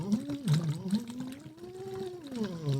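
A voice glides up and down in pitch while humming through a straw into water, making a continuous sliding tone with bubbling, close and alone.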